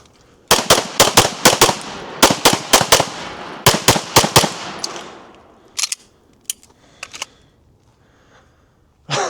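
Gunshots at an outdoor shooting range during a competition practice session: sharp, loud cracks in quick strings of several shots with brief pauses, then a few scattered, fainter shots after a quieter stretch.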